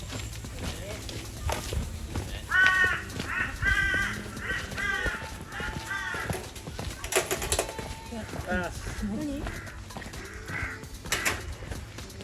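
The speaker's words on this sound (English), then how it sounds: "All the crows" Several crows caw repeatedly in harsh calls over outdoor background noise, with occasional hoof-like clopping and people talking nearby.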